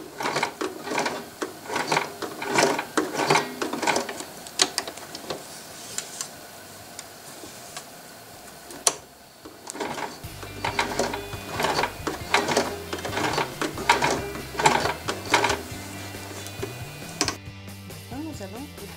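A sewing machine stitching along the side of a garment, its handwheel turned by hand, giving bursts of rapid close ticking and clattering separated by pauses, while a person talks throughout.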